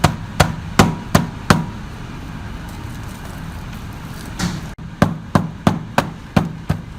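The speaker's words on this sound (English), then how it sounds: "we're putting some more sand in here with the sand and clay and packing it in tight" Sand and clay packed tightly by hand into a crude metal casting mould around a gear half, giving a run of sharp thumping tamps, about five in a row, a pause, then another quick series, close and fairly loud.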